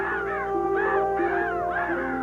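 Crows caw repeatedly in a rough, harsh series of about four loud calls, close and overlapping, over a steady low hum.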